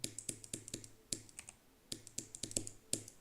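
Rapid clicks of a mouse or keyboard used as game input during an extreme-difficulty level, sharp close taps in uneven bursts and pairs with short pauses between, no talking.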